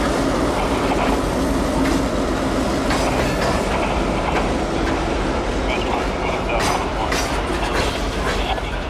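A switcher locomotive working a rail yard, with continuous rumbling wheels, clattering railcars and occasional metallic squeals close by, loud and steady throughout.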